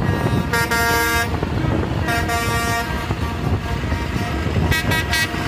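A concrete mixer truck sounds its horn in repeated blasts, a long honk followed by shorter toots, over a rumbling road-traffic background.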